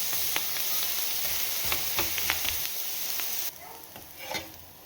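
Onion and carrot dosa frying on a hot pan with ghee, a steady loud sizzle with scraping pressing sounds that drops sharply quieter partway through, then a brief flare of crackle.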